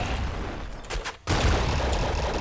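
Seeker shotgun firing in Nuclear Throne, a few short bursts, then a brief dip and a sudden loud blast with a dense crackling tail.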